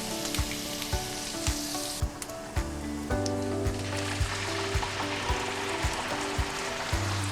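Vegetables for a black fungus sauce dish fry in a pan with a loud, dense, continuous sizzle, punctuated by regular sharp spatula taps against the pan about every half second, close up with no talking.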